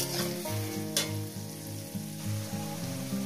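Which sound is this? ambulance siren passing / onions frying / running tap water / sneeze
onions frying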